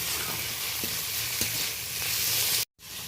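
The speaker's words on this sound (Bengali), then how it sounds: "কুচো চিংড়ি পেঁয়াজের সাথেই ভেজে নেবো" Loud, steady sizzling of small shrimp frying in a pan with onions, with faint scraping as the food is stirred, cutting off briefly near the end.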